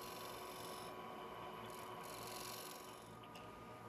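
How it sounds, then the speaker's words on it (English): Sorby texturing tool with a double bevel cutter working a piece of turned wood, giving a continuous faint raspy scraping that holds steady for a few seconds with no talk. "Here I'm using the double bevel cutter on the Sorvi brand of texturing tool."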